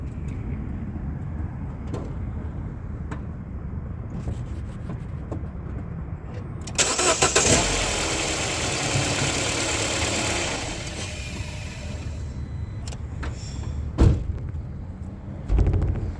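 A 2007 second-generation Mini Cooper with a freshly replaced battery cranks, and its engine catches and settles into a steady idle. A louder, noisy burst marks the start partway through, and a few clicks and knocks follow near the end.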